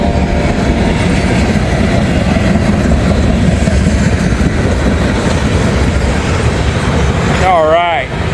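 A train rolls by loudly and close, a dense steady roar with clickety-clack from the wheels, ending with a warbling squeal near the end.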